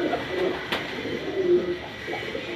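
Pigeons of old rare breeds give soft, low cooing calls in a loft, with a few murmured coos near and moderate over faint background noise, and no talk.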